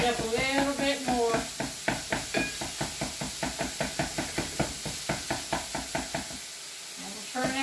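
Hamburger and sausage are chopped up in a frying pan with a spatula, giving a steady run of close, rhythmic knocking strikes over a sizzling frying hiss, with someone talking over the start and end.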